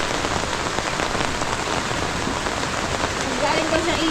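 Steady rain falls, a dense, continuous patter of drops hitting surfaces close by, loud and even from start to finish with no pauses.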